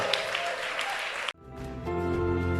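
A church congregation applauding, loud dense clapping that stops abruptly partway through and is followed by music and voices.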